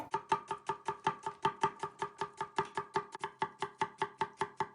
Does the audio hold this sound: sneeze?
no